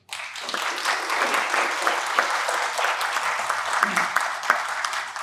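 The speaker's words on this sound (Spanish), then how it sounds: "Les pido a todos, les brinden un fuerte aplauso, por favor." Applause fills a lecture hall at the UNAM Faculty of Law for a guest speaker, a dense, steady crowd clapping that carries at even strength for several seconds with no voices above it.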